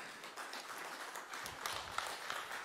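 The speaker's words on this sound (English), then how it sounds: "Please give Håkan a big round of applause." An audience at a Sweden-India business conference on Make in India applauds, a fairly faint, dense patter of many hands clapping that swells slightly toward the end.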